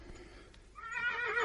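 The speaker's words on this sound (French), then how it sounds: "deux chevaux noirs comme la nuit et soufflant sur leur poitrail deux longs flots de fumée" A horse neighs as a radio drama sound effect, a rising, shrill whinny swelling in the second half over a quieter, muffled start, fairly close and alone.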